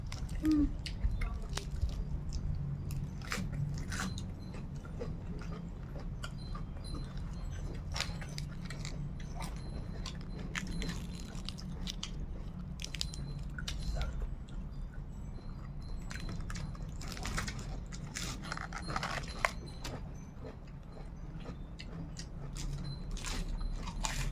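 Crunchy chewing of a spicy Thai salad, close to the mic, with repeated wet bites and crisp crunches over a steady low background hum for the full length.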